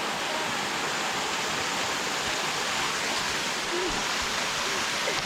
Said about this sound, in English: It's so big. Is it a big waterfall?